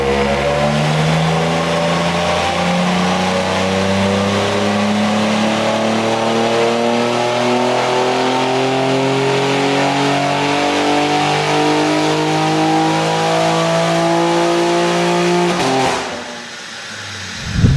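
A stock-software BMW G80 M3 engine revs hard on a dyno in one long climbing pull, its pitch rising steadily for about sixteen seconds before abruptly cutting off and winding down.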